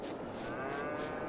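A milk cow on an Iowa dairy farm gives one sustained, fairly loud moo, heard alone with no talking.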